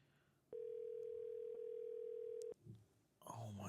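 A single steady telephone tone sounds for about two seconds, clear and electronic, before cutting off. A brief muffled voice follows, then louder talk begins near the end.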